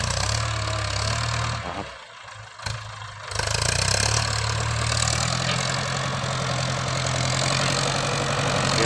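A Ford single-axle tractor engine ploughs a sugarcane field, a loud continuous mid-low drone with a steady knocking pulse, dipping briefly about two seconds in before swelling back.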